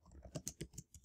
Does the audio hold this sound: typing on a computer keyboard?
yes